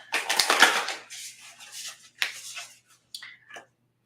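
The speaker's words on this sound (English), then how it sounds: "And shuffling the cards." Tarot cards are shuffled close by, giving papery riffles and soft slaps in several uneven bursts with quiet gaps between them.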